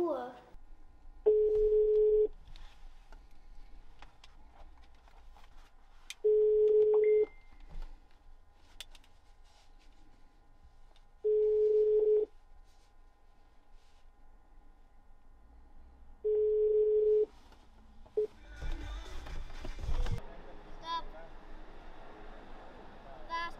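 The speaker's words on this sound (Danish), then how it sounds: "Hvorfor tager du ikke telefonen, når jeg ringer?" Ringback tone of an unanswered phone call, four evenly spaced steady beeps with long silent gaps between them, followed by a rise of faint background noise and movement.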